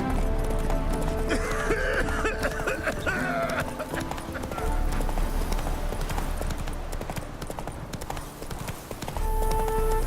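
Roach, a horse in the video game The Witcher 3, galloping with rapid hoofbeats under a musical score, with voices speaking over parts of it.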